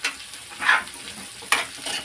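Capsicum tossed with ginger and green chilli in a hot pan for street-style chicken fried rice, giving a soft, steady sizzle with two brief louder scrapes of stirring, close and without talk.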